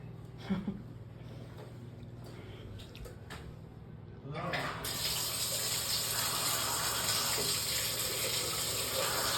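A hotel shower turns on partway through, its water running as a loud, steady rushing hiss that continues to the end after a quieter stretch of faint room sounds.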